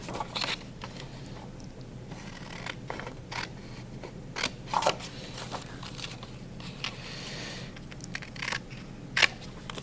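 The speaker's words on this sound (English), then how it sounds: "When I cut, I need to make sure that my paper stays folded." Scissors cutting through folded paper, a series of crisp snips and rustling crunches in uneven bursts, close and fairly clear with no talking.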